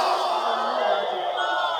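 A crowd at a religious sermon gathering roars back in unison in response to a preacher's slogan, a brief, loud and sustained collective shout.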